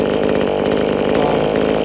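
A V-Modest 2511 top-handle chainsaw, a clone of the Echo 2511, runs continuously at high revs, loud and close with a steady buzzing drone and no speech.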